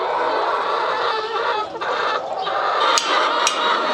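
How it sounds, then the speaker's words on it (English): Chickens on a farm cluck and squawk loudly and continuously, a dense crowded chorus of hens close by with a couple of sharper high calls near the end. "What is all these chickens doing here?"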